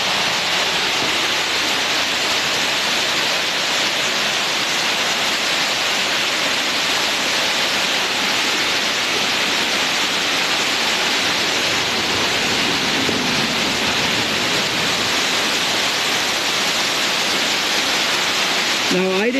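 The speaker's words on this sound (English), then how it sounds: "I didn't see a sign what this the name of this waterfall is" A waterfall roars steadily and loudly throughout, a dense continuous rush of falling water heard up close and without a break.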